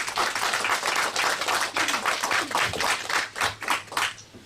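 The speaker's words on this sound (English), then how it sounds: "please give a round of applause" A room of listeners gives a lively round of applause, with brisk, closely packed claps pulsing slightly in intensity throughout, and no voices over it.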